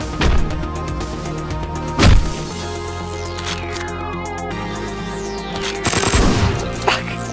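Gunfire from the video game Hotline Miami, several sharp loud shots and bursts over game music, with a heavy blast near the middle and a cluster of rapid shots toward the end.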